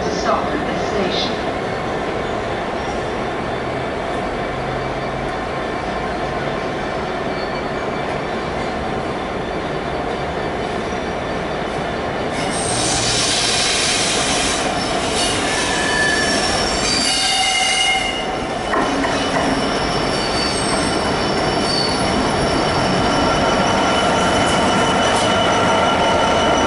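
A train runs through a station in the Eastleigh and Southampton area without stopping, its wheels squealing high and sustained over a steady rumble of rolling stock. The squeal grows louder midway as the carriages pass close by, with no talk.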